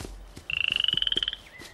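A frog croaks in a rapid pulsing trill of about twenty quick calls, fairly close and clear, with faint background rustle and a few soft knocks before and after.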